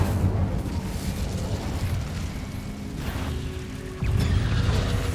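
A casting of the Incendio fire spell in Hogwarts Legacy makes a rumbling, fiery whoosh that swells steadily and then surges louder near the end, carried over a constant game backdrop.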